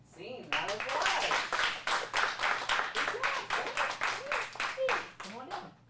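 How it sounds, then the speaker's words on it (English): Applause after a kids' acting class scene at an acting studio: a room of hands claps steadily for about five seconds, moderately loud and close, fading near the end. "Scene, round of applause."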